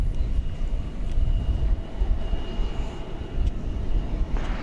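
An American Airlines jet departs Dallas Fort Worth airport, its engines a steady, fairly distant broadband roar holding level throughout, with no voices over it.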